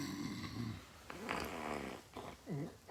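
Heavy snoring rumbles close by, a long rasping inhale followed by shorter throaty snorts, alone with no talk.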